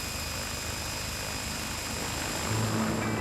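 XV-15 experimental tilt-rotor aircraft in flight, a steady dense rotor and engine roar with a thin high whine, growing slightly louder toward the end.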